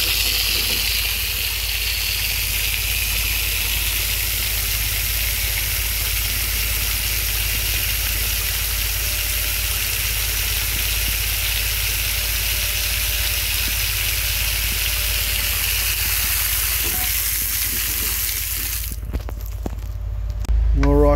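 A drain jetter hose runs with a loud, steady high-pressure hiss and rushing water at a blocked drain, holding constant for about nineteen seconds before it cuts off abruptly.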